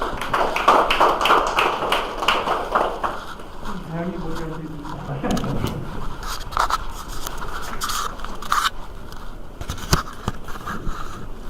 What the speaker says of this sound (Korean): 박수를 맞아주시면 감사하겠습니다